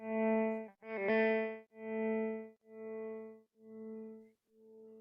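Electric guitar run through a tremolo effect patch on a ZOIA pedal, a sustained distorted chord pulsing loudly in about five even throbs that gradually fade, with noisy hiss between swells.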